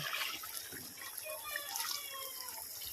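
Water trickles and splashes softly into a pan of potato curry cooking on the stove, a faint, continuous pouring with small bubbling glints.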